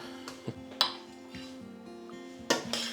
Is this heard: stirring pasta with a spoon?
yes